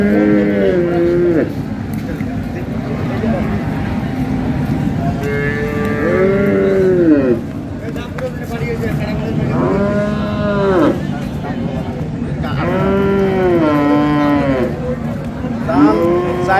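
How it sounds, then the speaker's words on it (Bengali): Cows and calves of improved dairy breeds lowing at the Ambari cattle market in Dinajpur, several drawn-out moos close by, some overlapping, over the busy market murmur. "গাভী বাছুর।"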